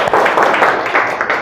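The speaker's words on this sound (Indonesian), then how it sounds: "Tepuk tangan dulu untuk kita semua." Classroom applause from a group of students, a dense, steady patter of clapping held at an even level for a short burst, with no pauses.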